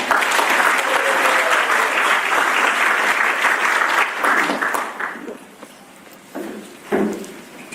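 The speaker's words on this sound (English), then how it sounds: "So can we have a huge round of applause for Maharaj?" Hall audience at a Janmashtami program in Tongaat applauds an initiating guru, Maharaj: loud, dense clapping that holds steady, then thins and fades, with a few scattered late claps and faint sounds.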